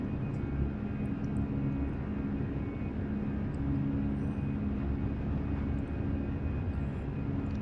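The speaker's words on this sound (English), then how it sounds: "We're going to do a quick takeoff here." Airplane engines roar steadily during a takeoff roll in Microsoft Flight Simulator 2020 on a weathered runway, a continuous broadband drone with no talk.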